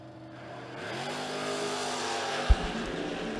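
Drag racing cars, one of them a Camaro, roar as they launch down the strip, engines rising in pitch as they accelerate away, with a sharp pop partway through; loud, heavy engine noise without speech.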